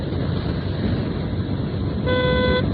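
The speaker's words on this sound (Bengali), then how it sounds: "এই যে হর্ন দিছে" A motorbike horn honks once, a short nasal beep near the end, over constant engine and road noise.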